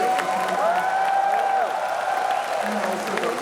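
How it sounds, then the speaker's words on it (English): Forum audience applauds three panelists at a vape-ban debate, a soft, diffuse clapping that runs under a tonal, whistling wash and faint crowd murmur throughout. "A round of applause for both for all three of our panelists"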